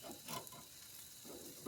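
Chicken and burgers sizzle faintly over a wood or charcoal fire on an outdoor grill, a soft continuous crackle with a few brief louder bursts and no talking.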